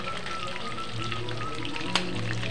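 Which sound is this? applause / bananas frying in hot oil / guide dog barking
bananas frying in hot oil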